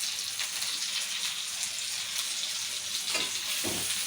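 Fish coated in masala frying in a small amount of oil in a pan, a steady close sizzle with no break, plus a few brief stirring scrapes near the end.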